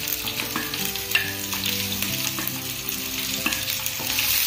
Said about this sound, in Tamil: வெட்டி வச்சிருக்கிற ஒரு சின்ன ஆனியன் பெரிய வெங்காயத்துல ஒரு சின்ன வெங்காயம் போட்டா போதும்